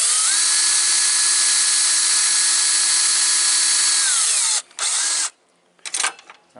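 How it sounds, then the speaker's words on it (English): A power drill bores a hole through the middle of a plastic cap, a steady high whine running about four seconds, then a short second burst and some handling noise, loud and close with no talk. "I'm going to take this cap and I'm going to drill a hole through the middle of it"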